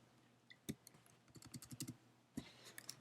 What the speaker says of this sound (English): I type in my first name and my last name